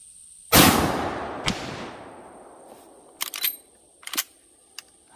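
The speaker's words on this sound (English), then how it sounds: "Second 45-70 shot hit right here." A single loud 45-70 rifle shot fired at construction body armor, a sharp crack with a long decaying echo, followed by a few quieter clicks and clanks from handling the target.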